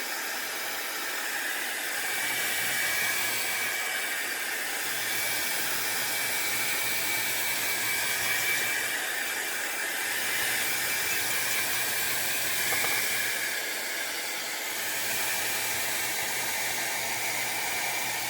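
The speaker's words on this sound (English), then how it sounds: "now I'm going to take my dryer and make sure this is completely dry" A hair dryer drying acrylic ink paint blows continuously with a steady whooshing hum that swells and dips slightly as it moves, with no talking.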